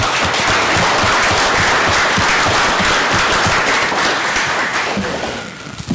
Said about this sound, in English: how about a round of applause for our brave souls that are running for board?